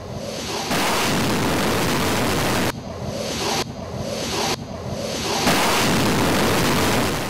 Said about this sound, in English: Please enjoy the startup noise of the Merlin turbopumps.